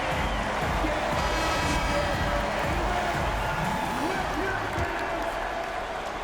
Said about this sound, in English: Please give a big round of applause for your Raptors